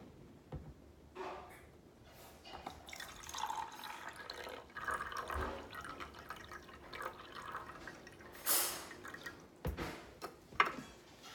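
Water poured by hand into two containers in turn, making uneven trickling and dripping sounds that rise and fall with small splashes and a few sharper clinks, fairly close and moderately quiet.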